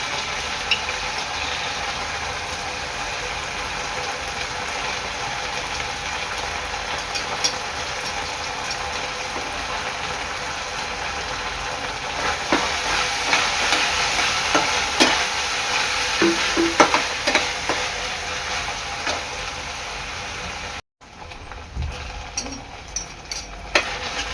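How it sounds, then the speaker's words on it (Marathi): Vegetables with red and green chili sauce are stir-fried for soybean fried rice, with a continuous low sizzle and scraping stirs close by, some metallic clinks toward the end. "सॉस चांगलं परतून घ्यायचं आहे भाजीमध्ये."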